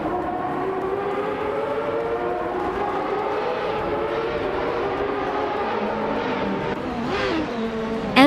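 Reynard 95i open-wheel race cars in a racing video game give off a continuous high engine whine with gliding, shifting pitch. Another car sweeps past close by near the end, and no one speaks.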